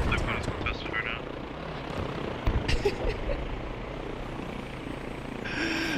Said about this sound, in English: They have a lot of helicopters.